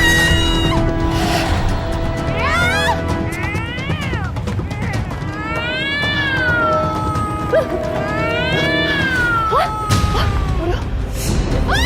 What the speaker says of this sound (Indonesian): Suara kucing berisik banget, Bu.